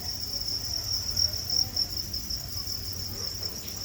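Crickets chirp in a steady, continuous high-pitched trill at a moderate distance, with a faint low hum underneath and no voices.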